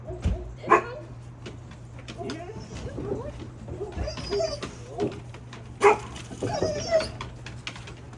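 Several dogs bark, yip and whimper outdoors on a morning training visit, scattered sharp barks near and farther off, mixed with people talking and greeting each other.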